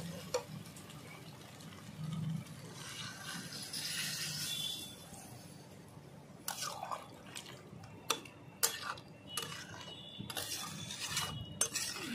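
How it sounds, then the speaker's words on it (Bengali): Water goes into a pot of jackfruit and prawn curry, followed by a spoon stirring and knocking against the pot with scattered clinks and taps, fairly faint and close, without speech. "জল দিয়ে দিয়েছি, ভালো করে নাড়িয়েও দিলাম।"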